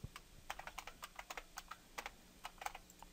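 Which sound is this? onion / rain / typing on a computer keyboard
typing on a computer keyboard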